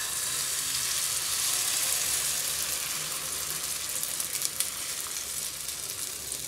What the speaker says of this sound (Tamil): இப்போ இந்த மிக்ஸ் பண்ணி வச்ச மசாலா வித் எக்கை வந்து ஊற்றிக்கலாம்.